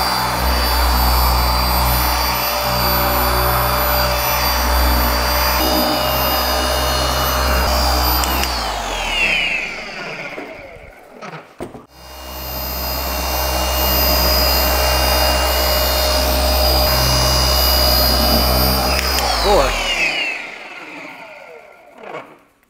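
A Rupes HLR21 cordless rotary polisher runs at speed 4 on a BMW X5, a loud steady whine and hum that winds down and stops around ten seconds, then spins back up and runs steadily before slowing again.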